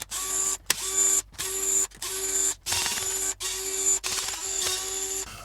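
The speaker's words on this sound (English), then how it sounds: "turn the toy over and remove the screws on the back of the toy" Screws being removed from the back of a plastic Dance N' Rescue Spidey toy with a small powered driver: repeated whirring bursts of a few seconds each, split by brief pauses, close and fairly loud.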